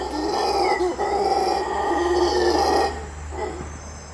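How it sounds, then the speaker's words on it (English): Howler monkeys howl in Latin America, a loud, sustained, guttural roaring chorus with wavering tones that carries for about three seconds before fading into a quieter tail, with no talking. "They feel like there's another howler monkey tribe coming close by."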